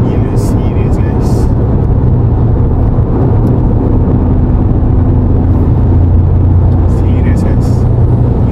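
A Toyota GR Yaris on the move fills the cabin with a steady, loud engine and road drone, constant throughout with no pauses, while someone talks over it.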